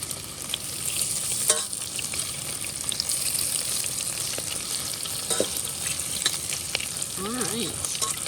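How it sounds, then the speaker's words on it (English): Chicken patties fry in grease in a pan, giving a continuous close crackling sizzle with bursts of spattering. The frying runs steadily throughout, and no one speaks over it. "I don't want the grease to splatter all over"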